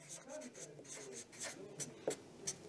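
Marker or chalk scratching on a classroom board while a small table is filled in, a series of short strokes with a few sharper taps, close by and under a teacher's speech.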